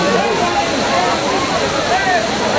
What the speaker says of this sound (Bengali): এই যে ঝর্ণা দেখা যাচ্ছে।